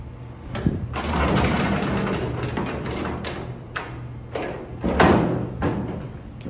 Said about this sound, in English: we're gonna open the door.